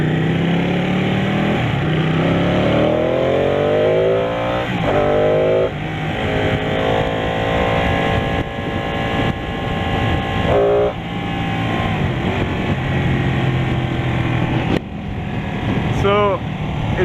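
Ducati Panigale 1299 sport bike engine revving on a warm day, loud rising and falling pitch sweeps through several gear changes, close to the rider, with a brief higher whine near the end.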